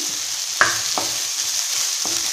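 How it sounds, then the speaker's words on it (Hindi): Steady hiss of coarse garlic-ginger paste frying in hot oil for a dal tempering, with a few sharp knocks and scrapes of a spoon stirring the pan. "ये लहसुन और अदरक के दरदरे पेस्ट को ऐसे मिक्स कर देना है"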